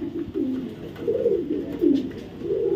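A female racing pigeon coos nearby in a series of short, low, throaty rolling phrases, each swelling and fading, repeating steadily at moderate volume.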